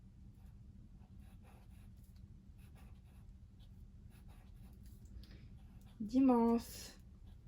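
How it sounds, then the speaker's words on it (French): Marker writing in a journal, soft scratchy strokes at a low level under steady room hum, briefly interrupted by a spoken word near the end. "je vais plus écrire avec un marqueur parce que le feutre galère"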